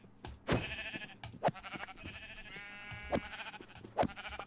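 Sheep bleating in a video game treasure-hunt session, several short bleats at close range mixed with game sound effects and music.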